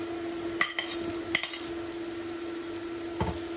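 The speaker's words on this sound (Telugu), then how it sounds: "ఇప్పుడు మనం ఉల్లిగడ్డ వేసుకుందామండి. మొదట ఇలా కొంచెం ఉల్లిగడ్డ మగ్గినాక మునక్కాయలు వేసుకుందామండి." Onions fry in a pan with mustard seeds for a drumstick curry. A steady, quiet sizzle runs under a few sharp clinks of a spoon stirring against the pan.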